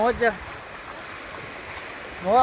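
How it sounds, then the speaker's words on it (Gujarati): Steady rushing wash of sea waves rolling ashore at Mandvi Beach, with brief voice fragments at the start and end. "આ જો પાણી આવે, જો કેવું પાણી આવે"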